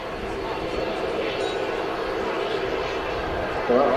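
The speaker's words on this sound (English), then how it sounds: "Just arriving on the runway there is one of the Aviation Canada's Dash 8400." A De Havilland Canada Dash 8-400 turboprop operating a Flybe flight arrives on the runway at Manchester Airport, heard as a steady, fairly faint broadband engine roar from a distance.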